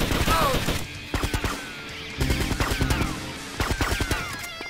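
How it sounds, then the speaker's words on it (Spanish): Bursts of rapid gunfire in the video game GTA Vice City Stories crackle in clusters with short pauses between, loud and close, with sharp repeated shots layered over a busy background. "Escucho los tiros, pero no veo los tipos."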